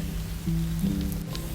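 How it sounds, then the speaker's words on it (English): Rain pours steadily in the Avatar World video game, a dense, even patter with a low hum beneath it and no one talking. "Oh my god, there's a lot of rain."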